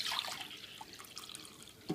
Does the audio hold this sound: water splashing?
yes